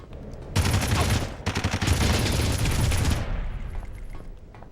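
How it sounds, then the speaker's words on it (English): A turret in a PlayStation 2 video game fires rapid automatic bursts. Two loud, dense volleys are separated by a short gap, and the second volley tails off into a fading rumble. There is no speech. "Nah, it's just a 360-degree turret"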